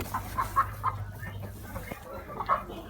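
Leghorn chickens on a farm give a handful of soft, short clucks, a quick cluster early on and a lone cluck near the end, set against a low steady background hum.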